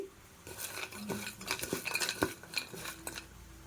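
Prawn pakodi being tossed with fried cashews in a metal pan, a steady run of scraping and clinking as a spoon stirs against the pan, close and moderately loud with no talking.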